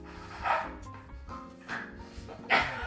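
A dog barks a few times nearby, with short bursts spaced about a second apart over a cluttered, murmuring indoor background while someone prepares guacamole.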